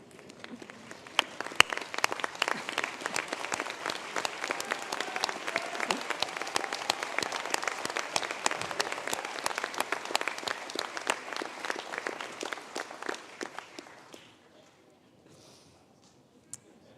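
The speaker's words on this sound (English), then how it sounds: "give them, please, a round of applause" Graduates at an ATU Sligo conferring ceremony applaud their families, a long wash of dense crowd clapping in a large hall that holds steady for about fourteen seconds before fading into quiet room tone.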